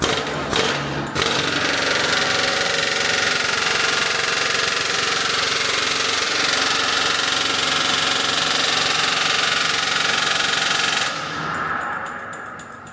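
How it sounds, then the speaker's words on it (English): A loud, rapid pneumatic rivet gun hammers a hot rivet, rattling continuously for about ten seconds at close range, then cuts off abruptly, leaving a fading ring. "the rivet gun used to peen over the end of the hot rivet"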